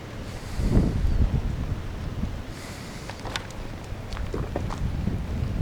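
Gusty wind buffets the microphone outdoors on a blustery, freezing winter morning in a driveway, a broad steady roar that swells loudest early on, with a few faint clicks and knocks from someone moving nearby.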